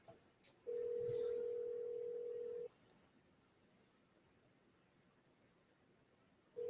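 An outgoing call on a cell phone rings back with a steady two-second tone, then falls silent for about four seconds before the next ring begins, heard alone and at low level.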